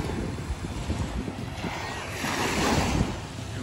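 Falling water at a waterfall in Surrey, BC: a steady, broad rushing roar with gusty wind buffeting across the microphone, fairly close and continuous, with no voices over it.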